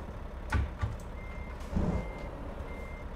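An old, beat-up truck sounds its reversing beeps, two loud close pulses spaced about a second apart over a low engine idle, with faint traffic in between.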